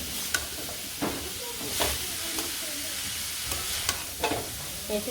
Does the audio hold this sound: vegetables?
yes